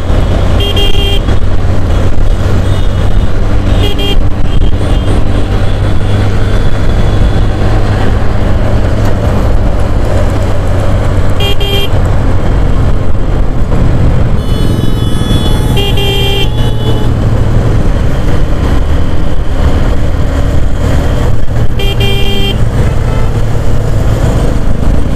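A Hero Xtreme 125R motorcycle carrying a pillion rider cruises at high speed on a highway, a loud, continuous engine drone mixed with heavy wind rush, with occasional horn toots from other traffic.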